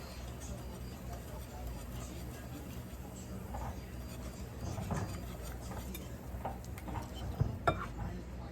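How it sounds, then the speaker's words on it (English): A spoon stirs food in a pot after a seasoning packet goes in, giving soft, close scraping and a few light clinks against the metal, quiet under background hum. "And give it a little mix."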